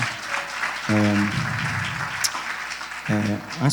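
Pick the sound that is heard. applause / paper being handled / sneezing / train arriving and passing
applause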